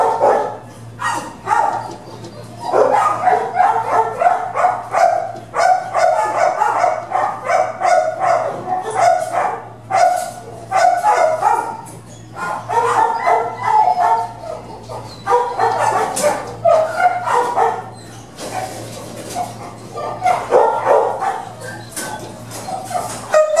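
Several dogs bark repeatedly in an indoor kennel, sharp overlapping barks and yips in uneven bursts with brief pauses, loud and echoing over a low steady hum.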